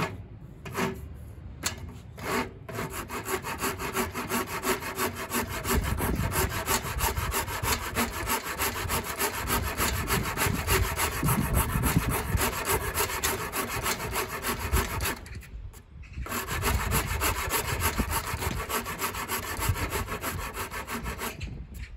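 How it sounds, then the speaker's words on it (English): A Shinto saw rasp shapes the wooden neck of an electric guitar in a steady, close rubbing rasp that runs on for most of the stretch, pausing briefly near the start and again about two-thirds through. "doing it with the Shinto saw rasp is extremely fast"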